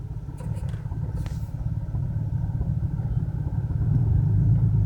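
A BMW 335i idles roughly with a misfiring cylinder, a low uneven engine rumble that holds steady close by and grows slightly louder toward the end, with no talk.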